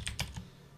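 A command is typed on a computer keyboard as a quick run of three soft, close key clicks in under a second, with no talking.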